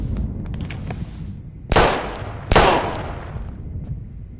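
Two loud, sharp bursts of gunfire in a PS4 video game ring out close together about a second apart, standing out over a low, steady game backdrop.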